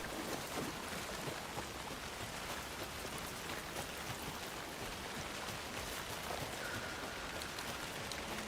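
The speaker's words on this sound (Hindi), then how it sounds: "बारिश स्टार्ट हो गई है।" Rain falling in the horror video game Alan Wake, a steady soft hiss of drops on a wooded landscape, even and continuous throughout with no voices over it.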